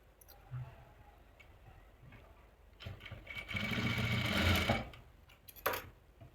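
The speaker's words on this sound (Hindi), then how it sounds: "ये स्टिच करने के बाद जो ये कट लगा है इसको भी यहाँ से स्टिच कर देंगे दोनों तरफ से" A sewing machine stitches a dhoti salwar, starting with faint ticks and clicks, then running in a short steady whirring burst before stopping with a few mechanical clicks.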